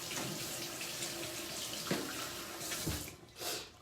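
Tap water running steadily into a kitchen sink while something is rinsed, a continuous close hiss with splashing changes near the end.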